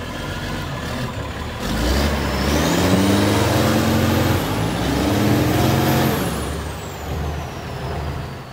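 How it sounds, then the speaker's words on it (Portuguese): A mechanical shovel strains to pull a mud-stuck truck on a rain-soaked dirt road, heavy diesel engines droning and surging in loud waves, with a high whistling whine rising and falling, close by. "uma pá mecânica está tentando tirar um caminhão em meio ao barro que se desmanchou com as chuvas"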